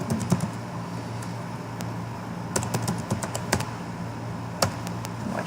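Someone types on a computer keyboard nearby, tapping out irregular bursts of quick, crisp key clicks with short pauses between them.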